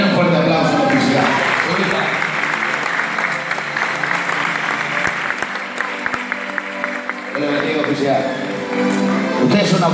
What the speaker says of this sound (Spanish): Den un fuerte aplauso al oficial.